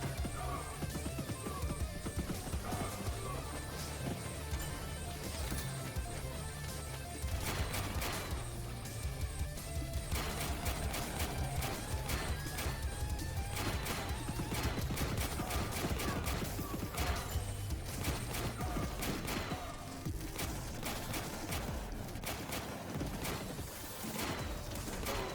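Heavy gunners fire in the war strategy game Warpips, producing dense, continuous rattling gunfire and crashes layered together for the whole stretch, with occasional faint voice beneath the battle.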